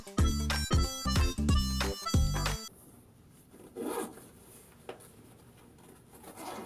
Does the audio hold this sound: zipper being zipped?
yes